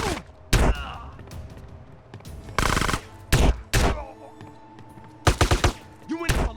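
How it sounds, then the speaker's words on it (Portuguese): Gunfire in a GTA San Andreas shootout: loud, sharp bursts of shots crack out in irregular clusters, some as rapid volleys, with quieter game ambience and faint sound effects in the gaps. "Ele e CJ continuam discutindo enquanto trocam tiros."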